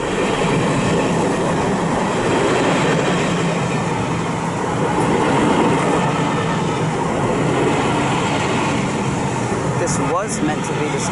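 A train passes at Patchway on the South Wales Main Line in the late evening, a loud, continuous rumble of wheels and rolling stock close by, with brief squeals and clatter near the end.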